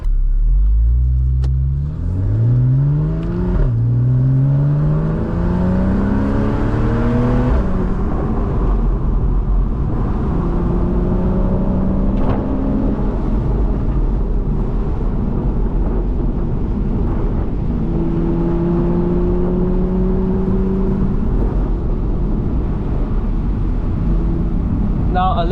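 A 2013 Porsche 911 Carrera S Cabriolet pulls away, its engine rising through several revving gear changes, then settles into a steady cruising drone with road and wind noise, close and loud throughout.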